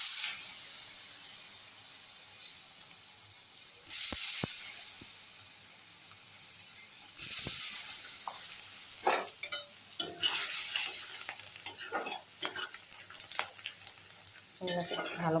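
Chopped ginger and garlic sizzle in hot oil in a wok, with a continuous frying hiss and intermittent scraping clatter of stirring that grows busier toward the end.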